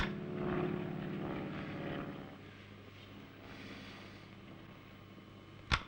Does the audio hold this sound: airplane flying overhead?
yes